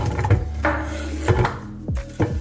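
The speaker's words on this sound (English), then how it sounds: "next we're gonna put our potatoes in the cooker" Potatoes being dropped into a cooker for a broccoli and potato vegan creamy soup, a few close, hollow knocks and thuds against the pot with scraping rustles between them.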